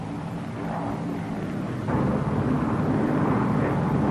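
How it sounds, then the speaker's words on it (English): Lockheed P-38 Lightning fighter aircraft flying at low speed, a steady broadband engine drone and airflow roar that grows slightly louder partway through, heard alone without talk. "Presented herewith is a new type of airplane, a primary trainer escort, under absolute control at 90 miles an hour indicated."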